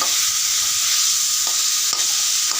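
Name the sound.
chickpea ghugni being stir-fried in a pan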